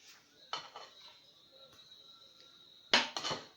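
A utensil clinks against a bowl while lemon and flour batter for madeleines is mixed, a few sharp metallic taps spaced out over a quiet background with a faint steady hum.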